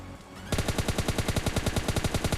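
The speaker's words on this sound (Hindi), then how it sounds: "सामने आपको गन साउंड आपको सुन लिया होगा" Gunfire in PUBG Mobile Lite, an M4 rifle firing a rapid, even burst of about twenty loud close shots that starts abruptly and continues steadily to the end.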